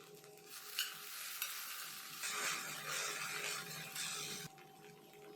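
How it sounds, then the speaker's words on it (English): Sliced okra frying in a pan with other ingredients: a steady hiss of sizzling oil, louder in the middle stretch, with occasional scraping stirs, heard up close. "Fry them together for a couple of minutes and then cover and cook for 2 to 3 minutes."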